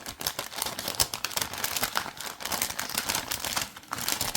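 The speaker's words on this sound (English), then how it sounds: "Ooh, that's me ripping." Cardboard door of a Christmas advent calendar being ripped open up close, a continuous crinkly tearing and crumpling of paper and card lasting several seconds.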